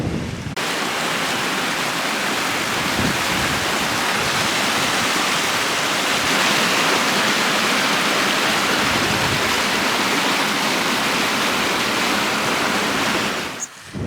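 Hogle Burn stream rushing beneath the remains of an old stone bridge in the Cumbrian fells near Brampton, a loud and steady broadband water roar that continues unbroken for the whole stretch.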